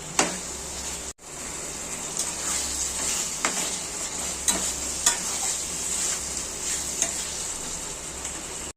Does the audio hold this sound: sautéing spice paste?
yes